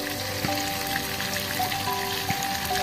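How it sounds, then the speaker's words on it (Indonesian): Catfish fry in hot oil for an outdoor cooking meal, giving a steady, dense sizzle and crackle with occasional pops close up and no talking. "kita goreng sambil nunggu matangnya"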